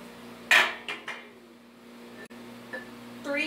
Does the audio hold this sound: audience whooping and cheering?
no